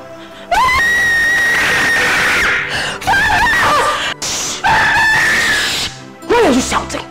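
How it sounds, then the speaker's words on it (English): A person in a Nollywood drama shouts and wails in long, loud, pitched cries with brief breaks between, growing ragged and strained toward the end. "Why are you shouting?"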